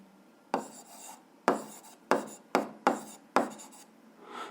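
Notes written by hand during a physics lesson: six separate scratchy strokes, each starting sharply and fading, spaced unevenly across a quiet room, close and fairly soft.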